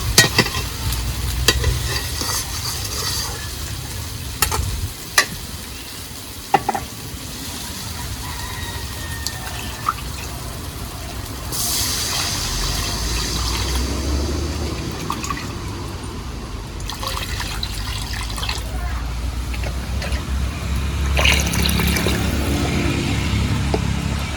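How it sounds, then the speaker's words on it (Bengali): Water poured into spice paste frying for a pabda fish curry, with spoon stirring and clatter early on, then a sustained bubbling sizzle and liquid rush, close and steady without speech. "দু মিনিট তো ভালো করে কষে নিলাম এবার দিয়ে দেব পরিমাণ মতো জল"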